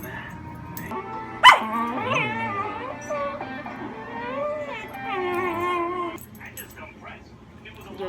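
Dogs playing at home give short yips, whines and playful barks, including one sharp loud yelp, with a person talking over them.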